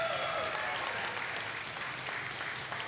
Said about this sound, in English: Give him a hand, ladies and gentlemen.